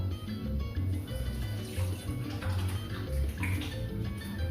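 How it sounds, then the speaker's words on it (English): Hands being washed under a running tap before mixing cassava bread dough, a steady close stream of water splashing throughout without pause. "let me wash my hands very well"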